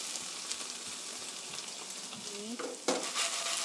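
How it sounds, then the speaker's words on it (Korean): Sweet garlic chicken pieces fry in an uncovered pan with a dense, continuous close sizzle and crackle, ending in a couple of sharper pops near the end. "이번에는 10미닛 뚜껑을 연 채로 10분간 구워주세요"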